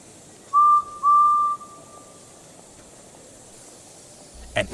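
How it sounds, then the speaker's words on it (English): A railway guard's whistle gives two shrill blasts, one short and one longer trailing off, over a quiet background, followed by a brief thump near the end. "The guard blew his whistle"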